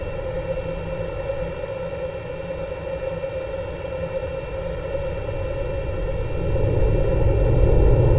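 A video-game airplane engine drones steadily with a tonal hum and a broad rushing noise, growing slightly louder toward the end.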